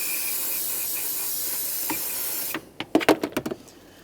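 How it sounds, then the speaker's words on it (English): Aerosol parts cleaner sprays in a long, steady, close hiss onto the oily lower alternator mounting point of a 2015-2020 Ford F-150 3.5L V6, then stops and is followed by a few sharp clicks and taps. "I'm going to use some parts cleaner here."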